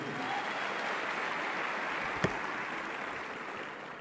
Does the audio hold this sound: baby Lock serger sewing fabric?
no